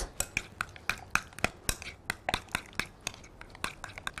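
A spoon clinks against a bowl while paprika powder is stirred into a garlicky toum dip, quick irregular taps and scrapes repeating close by, crisp and bright, with no talking.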